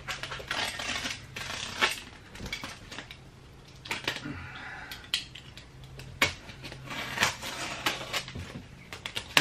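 A thoroughly taped kimono mystery box being cut and opened, with scattered sharp clicks, scrapes and tape rustles, close and fairly quiet, irregular in rhythm.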